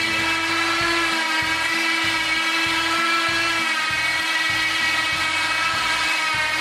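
A Harbor Freight 2,500 pound remote control winch lifting a mower runs with a loud, steady electric whine and a low pulsing drone, close by and continuous throughout.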